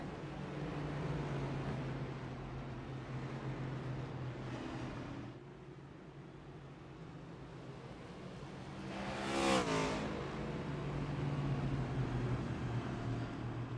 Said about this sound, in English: we see the iRacing official pace car fly through